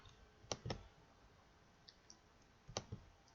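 A computer mouse clicks two quick pairs of sharp, close, quiet clicks a couple of seconds apart, setting a link to open in a new window, over a faint steady room hiss.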